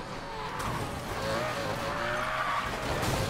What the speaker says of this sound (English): Holy shoot, he spun out.